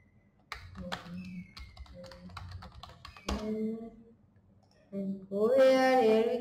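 Keys clatter on a computer keyboard while code is typed, light irregular taps in short runs, with a voice speaking near the end.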